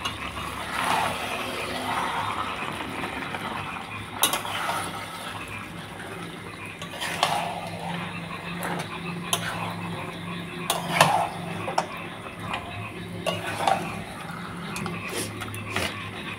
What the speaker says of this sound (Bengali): তো এরপর মশলার সঙ্গে মাংসটা ভালো করে নাড়াচাড়া করে নেব।